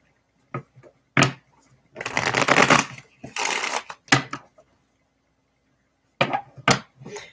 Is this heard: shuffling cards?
yes